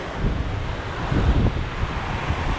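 Wind gusting across the open deck of a Carnival Freedom cruise ship at sea, a loud, continuous rushing buffet against the microphone with low rumbling surges and no talk.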